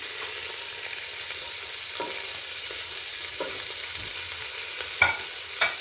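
Vegetables stir-fry in a hot pan for fried rice, a steady close sizzle running throughout with occasional scraping stirs, no voices.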